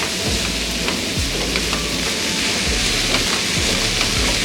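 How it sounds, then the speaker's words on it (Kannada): Chilkarve greens fry in oil in a pan, giving a constant close sizzle with scattered pops and occasional scraping stirs, running evenly throughout with no talking. "ನೀರೇನು ಹಾಕ್ಕೊಳ್ದಿರ ಇದನ್ನು ಎಣ್ಣೆನಲ್ಲೇ ಫ್ರೈ ಮಾಡ್ಕೋಬೇಕು."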